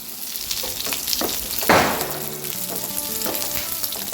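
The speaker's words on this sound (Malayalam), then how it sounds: "കുറച്ച് കറിവേപ്പിലയും കൂടി" Close frying sizzle that flares into a sharp burst as leaves hit the hot oil, then settles into steady crackling.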